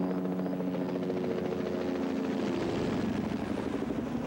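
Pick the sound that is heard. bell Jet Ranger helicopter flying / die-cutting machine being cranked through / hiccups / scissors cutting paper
bell Jet Ranger helicopter flying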